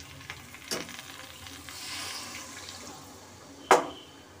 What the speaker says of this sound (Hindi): अब मैं इसमें पानी डालूँगी, थोड़ा तो चलाना पड़ेगा।